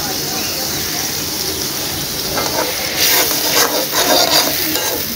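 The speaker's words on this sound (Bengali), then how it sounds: "তারপরে ভালো করে মশলাটাকে কষিয়ে নেব।" Masala of salt, turmeric and chili powder stir-fried in a pan on a village veranda, a steady hiss with scraping strokes of a spatula that grow louder and busier partway through.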